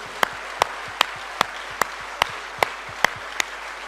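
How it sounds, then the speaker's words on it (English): A seminar audience claps in a steady, evenly spaced rhythm, sharp distinct claps about every half second over a faint, noisy room background, with no talking. "Big round of applause for them, please."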